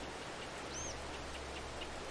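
Steady rain hisses evenly throughout a Farming Simulator 22 farm scene, heard alone without talk, with a faint bird-like chirp briefly rising over the wash.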